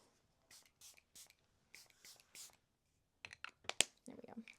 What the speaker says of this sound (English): So I'm gonna spray it, probably keep it kind of more to the sides of my face.